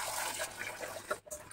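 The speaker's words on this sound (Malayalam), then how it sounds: "വെള്ളത്തിൽ ഈ ഐറ്റംസൊക്കെ ഒന്ന് കഴുകി വൃത്തിയാക്കി എടുക്കുക." Ingredients being washed in water at home, a soft continuous splash and trickle with small sloshing bursts, faint and close.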